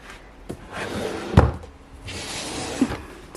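A wooden drawer in an art supply storage area slides open with a soft rumbling scrape, then thumps, with a few lighter knocks around it, close and fairly loud, no talk.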